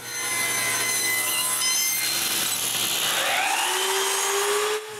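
A power saw rips old pine planks into narrower strips with one loud, sustained, rough cutting whine that holds steady and then shifts pitch near the end. No one speaks.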